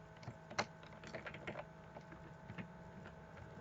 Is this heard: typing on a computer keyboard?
yes